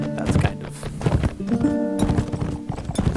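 A horse gallops in the Mount and Blade: With Fire and Sword video game, its hooves thudding in quick, uneven clip-clop beats, close and loud, with a short whinny mixed in.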